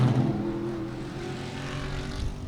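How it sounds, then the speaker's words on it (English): Big-bore race cars roar past at Sebring International Raceway, a loud sustained engine drone with a low rumble that shifts in pitch as the cars pass. "These are big, loud, fast race cars."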